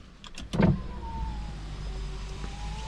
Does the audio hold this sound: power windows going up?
yes